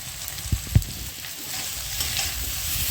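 Ground turmeric, cumin, coriander and chili powder sauté in hot oil in a pan for a cabbage dish, giving a steady close sizzle with a couple of clear spoon scrapes and knocks early on, and no voices.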